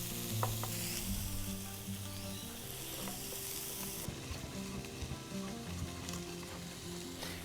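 Onions sizzle and fry steadily in a pan for a steak sandwich, with occasional light stirring scrapes over a continuous hiss; no one speaks.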